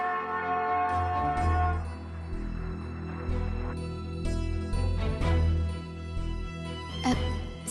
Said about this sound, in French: C'est un bruit de train et de cloche de temple.